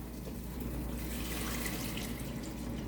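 Tap water runs steadily into a pot of potatoes for mashing, a continuous close rushing splash with no voices.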